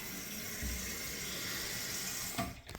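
Water hisses steadily into a toilet tank during a plumbing repair of an in-wall waste line leak, a faint continuous filling rush that changes briefly near the end.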